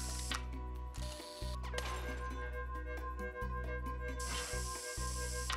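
Whirring, ratcheting machinery in Two Point Hospital unscrews a patient's head, a steady mechanical drone broken by short pauses and clicking gear bursts, with hissing sprays rising at the start and end.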